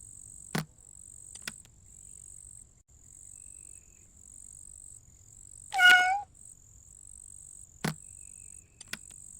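A cat in the stealth video game Nobodies: Silent Blood gives a single brief meow in an otherwise quiet scene, with a few sharp clicks around it.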